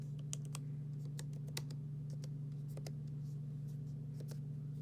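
Keys click at an uneven pace on a 2018 Apple MacBook Pro 13-inch keyboard, the soft taps faint over a steady electrical hum.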